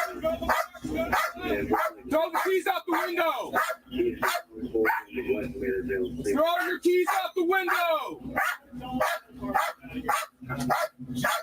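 A dog in a car barks repeatedly in short sharp bursts while people shout urgently over it, the barking nearby and persistent throughout.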